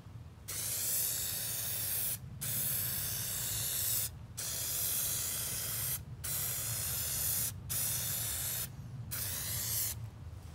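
Plasti Dip coating hisses from a spray can onto a Chevy Camaro in several long, steady bursts of about two seconds each, separated by short pauses, close and alone.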